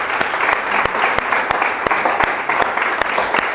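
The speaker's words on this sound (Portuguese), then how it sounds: "vamos aplaudir a Jesus Cristo pela vida dos nossos pastores" A church congregation in Brazil applauds, many hands clapping in a loud, close wash punctuated by regular sharp beats roughly every third of a second, as if partly clapping in rhythm.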